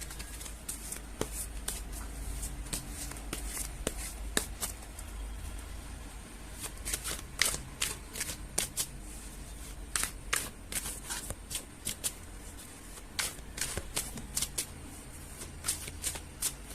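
Tarot cards being shuffled by hand, a long run of crisp riffling and flicking bursts in uneven rhythm, close and fairly quiet, with no voice over them.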